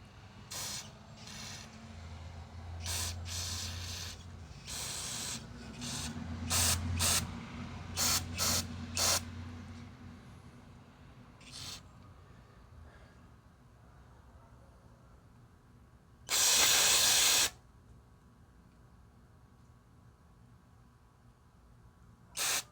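A loud, steady burst of water from Ryobi pressure washer nozzles hisses for about a second, following scattered clicks and mechanical rattles, with faint voices nearby.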